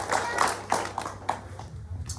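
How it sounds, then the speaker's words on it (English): Applause for students at a school assembly, a short patter of separate claps, sparse and fairly close, fading toward the end. "So give them a big round of applause."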